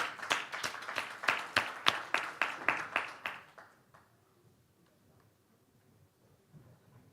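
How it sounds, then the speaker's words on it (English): A conference audience in Dubai claps in a steady, rhythmic beat of about a dozen sharp claps over three seconds. The room then falls nearly silent. "Put your hands together in a massive round of applause for them."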